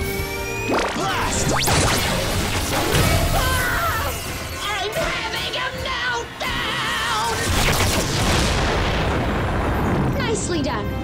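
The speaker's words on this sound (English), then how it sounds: "Beast X Cannon, blast!" The Beast X Cannon fires in a Power Rangers Beast Morphers ground battle, giving dense booming blasts and crashing explosions that run almost continuously, loud and close, with shouting voices mixed into the chaos.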